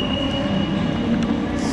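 Moving train interior: a steady rolling rumble with a thin high whine and faint rattles throughout, close and continuous, with no voices clearly heard.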